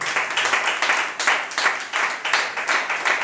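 Church congregation clapping for Jesus during a worship service, a dense, steady round of applause with rhythmic surges, close and loud throughout.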